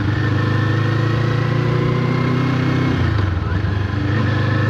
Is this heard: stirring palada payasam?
no